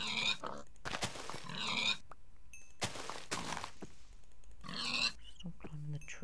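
A pig grunts in the video game Minecraft during a UHC match, giving a few short oinks amid game thunks and clicks, with a player talking over and between them.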